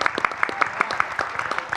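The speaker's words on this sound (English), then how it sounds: "we ought to give the NAACP a round of applause" A forum audience gives the NAACP a round of applause: sparse, fairly even claps repeat in a steady pulse for just under two seconds, moderately loud and close, with no talking over them.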